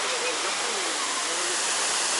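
Steady, full rushing of flowing water near a hotel, a constant broadband hiss like a small cascade or stream, close and continuous throughout with no breaks.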